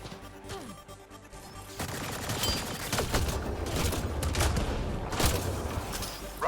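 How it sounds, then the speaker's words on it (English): Gunfire in Mass Effect Andromeda, bursts of rapid rattling shots and sharp cracks in a dense, loud firefight that builds after a quieter opening and continues to the end. "I keep shooting the wrong people"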